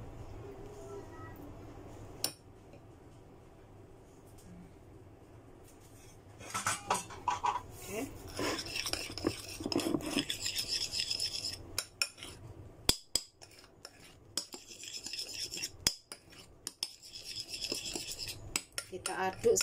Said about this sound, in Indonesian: Kita aduk sampai merata ya, pakai spatula.